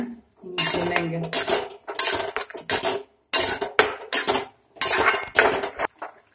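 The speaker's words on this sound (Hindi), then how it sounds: "देखिए 2 से 3 मिनट हो गया है हमको पाइनएप्पल को भूनते हुए" Pineapple pieces sautéing in a pan for pineapple halwa, heard as repeated loud bursts of a metal spoon scraping and clattering against the pan in quick rhythmic strokes with short pauses, close up, no talking.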